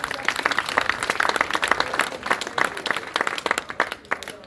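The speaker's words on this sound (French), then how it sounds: "Donc on peut aussi applaudir le comité Aquitaine." An audience at a speech applauds the Aquitaine committee, lively close clapping with many distinct hand claps that swell and then thin out toward the end.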